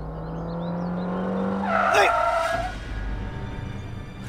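A car brakes hard with a rising tire screech near the middle, tearing through and then cutting off abruptly, over a steady low engine hum.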